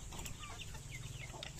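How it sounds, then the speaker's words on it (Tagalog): Backyard chickens cluck softly while being fed, brief chirpy clucks over a dense noisy background with a low rumble, faint and somewhat distant, no talk. "Pakain siya ng kanyang mga manok."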